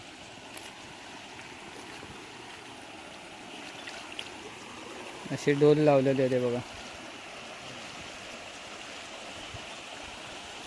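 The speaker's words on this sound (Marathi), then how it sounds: "इथे पाणी पण वाहतं किती जोरात" Fast-flowing water runs through a creek in a steady broadband rush, under a voice speaking nearby.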